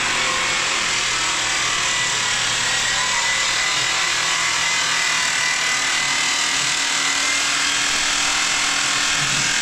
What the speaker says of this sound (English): So Chris is sanding it down